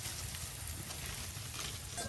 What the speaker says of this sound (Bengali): পেঁয়াজ আর রসুন তেলে ভাজা ভাজা হয়ে যাচ্ছে